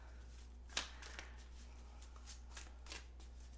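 A well-worn tarot oracle card deck being shuffled by hand, with a few crisp riffling bursts over a steady low hum, fairly close and fairly quiet.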